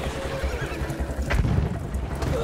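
A horse whinnies loudly in the Battlefield 1 video game, the neigh rising over a dense bed of galloping hoof clatter and battlefield noise, with no voices.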